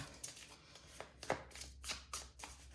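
Tarot cards being shuffled by hand at close range, a series of soft papery slaps and riffles in uneven bursts, quiet and without talk.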